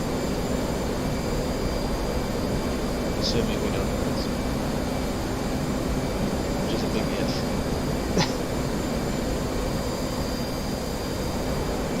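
An F-18 jet engine in the flight simulator DCS hums as a steady, fairly loud drone with a faint high whine, while someone talks over it.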